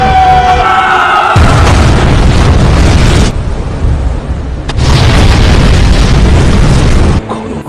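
Heavy booms and roaring blasts fill the air in long loud bursts, separated by brief lulls, like cannon fire and explosions close by, from a naval battle between Japanese and Joseon ships.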